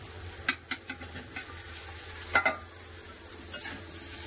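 Eggplant pieces fry in a pan with onions and oil, giving a quiet, steady sizzle broken by several sharp scraping clinks of a spatula stirring the pan.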